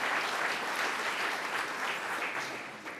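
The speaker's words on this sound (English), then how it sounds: "Let's give them a big round of applause for their support." Steady applause from a crowd at a Rotary club meeting, many hands clapping evenly throughout, fading slightly toward the end.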